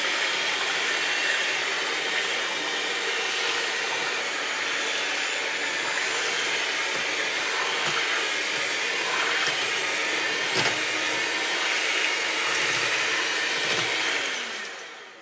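An electric mixer whisks homemade liquid magnesium chalk in a large batch, a loud steady high-pitched whirring drone that holds for the whole stretch before cutting off at the end.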